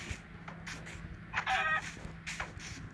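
A chicken in the Minecraft video game lets out a short burst of clucking mid-clip, moderately loud over a low steady game background hum.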